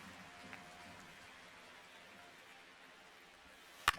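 Steady soft rain ambience in the baseball video game MLB The Show 26, a faint even patter throughout with a sharp brief click near the end.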